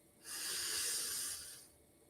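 One long breath in through the mouth, a single smooth airy inhalation lasting about a second and a half, close and clear with no talking over it.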